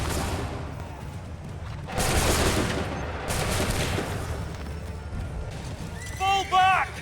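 Muskets fire in volleys on a colonial battlefield in Assassin's Creed 3, with a loud rolling burst of gunfire, a second crackling round, then shouted voices near the end over continuous battle noise.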